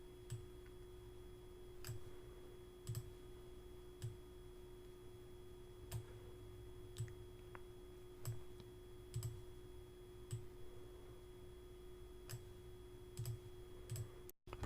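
Computer mouse clicking while formatting text in a WordPress editor, about a dozen sharp, quiet clicks at irregular intervals of one to two seconds over a faint steady hum.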